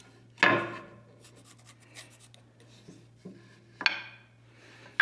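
A spoke shave shaping a wooden stagecoach spoke by hand, a few separate rasping strokes with quiet gaps between them, close but soft, in a quiet shop with no voices.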